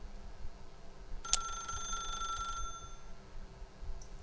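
In the video game The Stanley Parable, a telephone rings in a single bright electronic trill of over a second over a low, steady background hum, then falls quiet.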